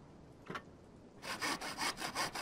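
Rhythmic back-and-forth sanding or sawing of wood in a puzzle adventure game, with a single faint stroke followed by a quick run of about six loud, even scraping strokes, close and with no talking.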